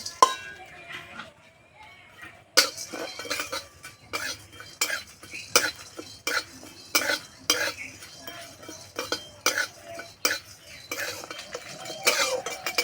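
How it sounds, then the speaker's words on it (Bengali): Whole coriander, cumin, dried red chillies, peppercorns and whole garam masala dry-roasting in a pan, with irregular clinks and scrapes of a metal spatula stirring them, close up over a faint background hiss. "গোটা ধনে গোটা জিরে শুকনো লঙ্কা কয়েকটা গোলমরিচ আর গোটা গরম মশলা একসঙ্গে ভেজে নেব"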